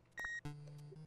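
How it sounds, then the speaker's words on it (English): Electronic beeps from the Super Mario Maker video game: a short high tone followed by a sustained lower two-note beep, loud and clear with no talking. "What is the beeping noise"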